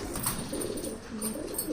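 Pigeons coo softly in a loft in Amravati, faint low burbling calls repeating a few times close by with light background noise.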